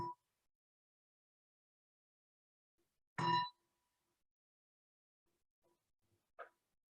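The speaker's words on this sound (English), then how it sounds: "We'll let the bell transition us." A meditation bell is struck once, a bright ringing tone that fades quickly, followed by a faint second ding a few seconds later in a quiet room.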